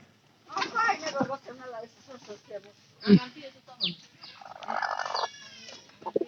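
A hen about to lay eggs clucks and squawks in short bursts close by, while a person talks over the calls.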